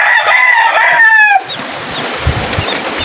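A rooster crows once, loud and close, its call rising and then trailing off, followed by quiet outdoor background noise with faint knocks after a typhoon.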